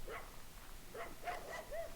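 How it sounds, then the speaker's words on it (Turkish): In the medieval combat game Mount & Blade: Warband, a dog barks several times in short, faint bursts spread across the moment, distant and thin over a soft background hiss. "Köpek sesi var."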